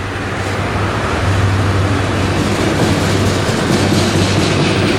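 A very long freight train of empty auto rack cars rolls past close by, with a loud, continuous rumble, rattling wagons and clickety-clack from the wheels that holds steady throughout.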